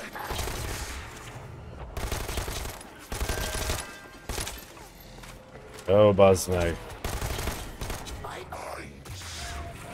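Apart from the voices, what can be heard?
submachine gun fire in video game Dead Island 2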